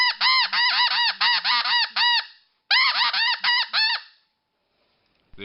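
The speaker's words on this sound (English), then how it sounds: "then it'll do the high end stuff like the snow goose" A RedBone Snowbuzzerd goose call blown in high snow goose notes: rapid bursts of sharp, nasal honks in two close runs, loud and near, with silence between runs and a brief knock at the end.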